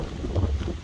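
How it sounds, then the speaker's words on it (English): Wind blusters outdoors on a snowy winter day, a steady low rumble buffeting the microphone throughout the short stretch, with no talking. "Ooh, it's windy here."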